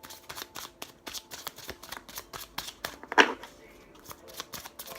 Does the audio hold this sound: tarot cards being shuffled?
yes